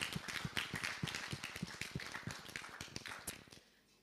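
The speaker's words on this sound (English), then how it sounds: "let's take a round of applause" An audience at an annual meeting in Zanzibar claps together, a steady patter of many hands close by that thins and stops toward the end.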